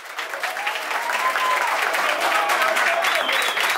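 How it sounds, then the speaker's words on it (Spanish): An audience applauds at a live music night in a lounge and grill, sustained clapping from the crowd with cheers and whistles rising over it. "Que se repita el aplauso de nuevo."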